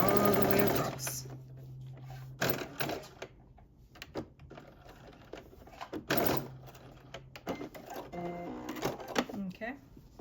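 Sewing machine stitching across a sweatsuit waistband in short bursts of motor hum, stopping and starting several times at close range, with brief pauses of handling between runs.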